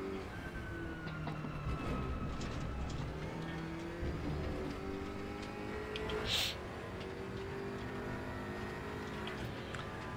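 A Manthey Porsche race car's engine drones steadily in a racing sim, its tone rising and falling with gear changes through a corner, set among other cars' engines, with a brief sharp noise partway through.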